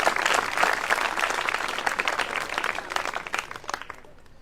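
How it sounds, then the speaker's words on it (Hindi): An audience applauds loudly, with dense clapping that is strongest at the start and fades gradually over about four seconds, and no voices. "जोरदार ताड़े बजाओ बहन जी के।"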